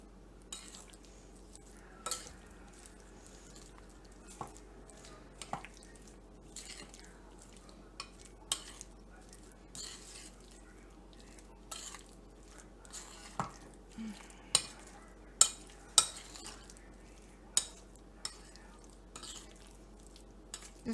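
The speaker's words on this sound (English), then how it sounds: "Okay, so we mix all of that until everything is combined." Apple mixture being folded together with cinnamon rolls in a bowl for a breakfast casserole, with scattered soft scrapes and sharper spoon-on-bowl clinks spread irregularly over a quiet background.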